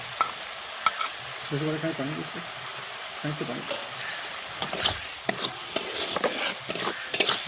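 Rohu fish pieces being stirred and turned in hot oil, then mixed with mustard paste, making a steady sizzle broken by scraping strokes of the spatula, with brief speech in the background.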